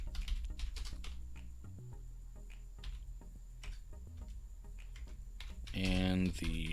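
Computer keyboard keys clack in an irregular burst of typing, close and fairly quiet, with a louder tonal sound near the end and a voice speaking around it.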